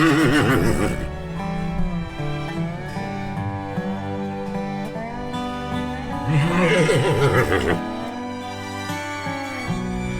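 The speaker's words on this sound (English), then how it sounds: "all the other horses didn't hesitate to make themselves known" Several horses whinny loudly in stables, one long neigh at the start and another around the middle, with a steady mechanical hum beneath and occasional shuffling.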